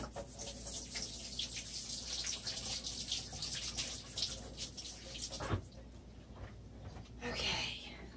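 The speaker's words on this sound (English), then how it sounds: "let me rinse my fingers off" Water runs steadily from a tap as fingers are rinsed during a tile resin pour project, a fairly quiet continuous splash with a brief change in flow near the end.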